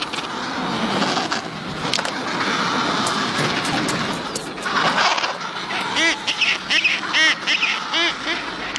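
Penguins call at a nesting colony where males build stone nests, with a dense, constant din of many overlapping bird voices. Repeated nasal honking calls stand out nearby toward the end.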